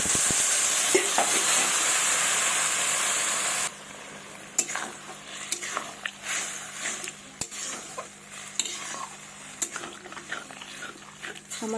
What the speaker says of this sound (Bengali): এবার আমি জল দেবো পরিমাণ মতো।